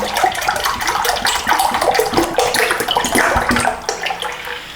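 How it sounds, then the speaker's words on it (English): Milk gushes steadily into a pot, a continuous splashing pour that lasts several seconds, close and loud. "I'm dumping this milk into a pot."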